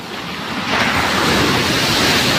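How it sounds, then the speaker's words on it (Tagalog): Large ocean waves break on a beach on a day of heavy surf, a loud, continuous roar of crashing water and wind that swells after the first moment, with no talk. "Oh, mapakalaki ng alon ngayon, araw na to."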